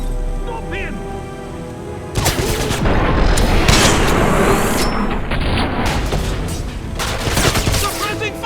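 Rapid gunfire bursts and booming shots in a firefight in the video game Wolfenstein (2009), loud and dense after a brief quieter lead-in, with soldiers shouting over it.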